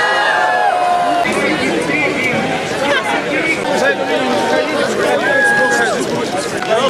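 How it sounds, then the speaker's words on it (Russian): Spectators along an Olympic torch relay route cheer and call out, a lively crowd hubbub with voices overlapping throughout, loud and close, with rising shouts and whistles. "Зрители изо всех сил поддерживали и подбадривали спортсмена"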